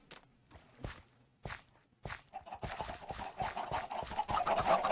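Footsteps tread slowly at first in the video game Stony Shore, then adult chickens begin clucking and chattering, growing busier and louder toward the end.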